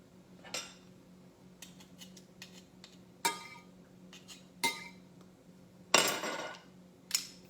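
A garlic press crushes whole unpeeled garlic cloves, heard as a series of close metallic clacks and squeezing crunches at irregular intervals, with a louder grinding crush near the end and light clinks of the tool between presses.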